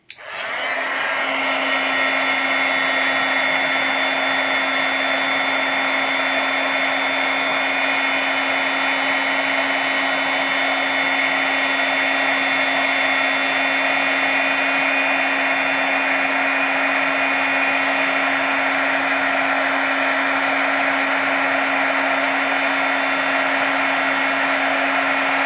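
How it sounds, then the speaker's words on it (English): A heat embossing tool runs continuously for a long stretch as it melts embossing powder on a stamped card, a loud, steady blowing whir with a constant motor hum. "so I'm just going to emboss that now."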